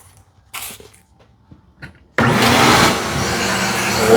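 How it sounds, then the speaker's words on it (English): A few faint clicks and knocks, then a vacuum cleaner switches on with a sudden loud whoosh and keeps roaring steadily. "turn on my vacuum cleaner"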